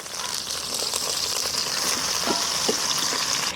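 Mustard seeds, ginger, green chili and curry leaves sizzle steadily in hot oil, a loud continuous frying hiss with scattered small pops and crackles throughout, no voices.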